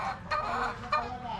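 Chickens clucking at a gamefowl conditioning yard, a few short, bursty clucks and calls close by, moderately quiet, with no talking.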